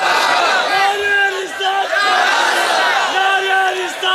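A large crowd at a religious gathering in Pakistan chants a slogan in unison, loud repeated rising and falling call-and-response shouts close by, with a lead voice mixed in.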